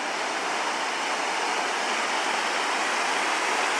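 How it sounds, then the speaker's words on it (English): Ocean waves wash in at low tide on New River Beach, a loud, steady broadband roar of surf with no distinct breaks or pauses, close and continuous, with no voices. "There's some good sized waves coming in."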